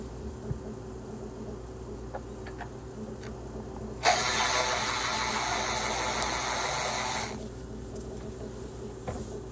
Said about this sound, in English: using a long extension with the number 10, we're going to remove those 2 bolts